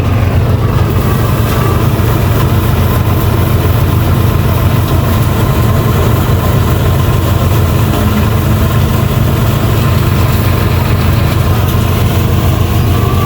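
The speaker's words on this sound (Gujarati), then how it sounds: "આ બાજુ હલરે હારવેર ચાલુ છે।" A tractor-driven thresher (haler) runs on a farm, giving off a loud, steady, low engine drone with a constant mechanical rumble throughout, and no talk over it.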